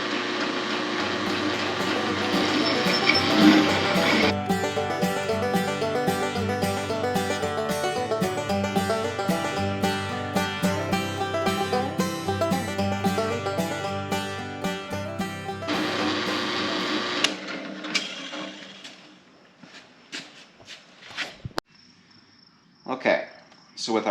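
A drill boring a 1/2 inch hole through a metal plate, a sustained whining, rattling grind with a rhythmic chatter that stops partway, followed by scattered clicks and handling noises.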